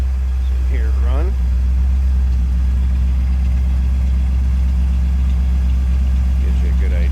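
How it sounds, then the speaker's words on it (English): A 1940 Cadillac Series 60 sedan street rod idles with a deep, steady low rumble close by, someone talking briefly over it near the start and end. "see and hear a 40 Cadillac Series 60 pull up, and got a little rumble coming out of it"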